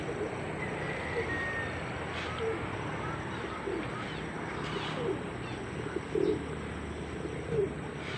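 Pigeons coo outdoors, soft and somewhat distant, with a few chirps over a low background wash. Speech is faintly present.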